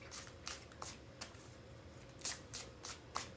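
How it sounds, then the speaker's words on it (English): Tarot cards are shuffled by hand in a quiet room, a steady run of soft riffling bursts and light taps repeating close to the mic. "All right, 3 more shuffles."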